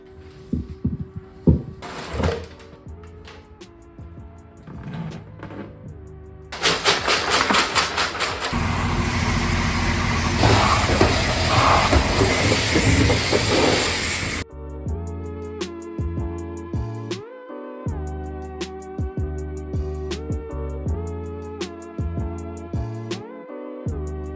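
A sealed, rusty fuel tank is shaken hard for about eight seconds, giving a dense, loud rattling and sloshing rush that stands out between steadier tonal background sounds before and after.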